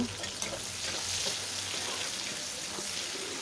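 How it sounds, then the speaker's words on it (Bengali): Tomatoes with grated ginger are stirred in a frying pan, making a soft, even sizzle with faint scraping, quiet and close for a few seconds with no talk. "এই দেখো একটু ঘেটে নিলাম।"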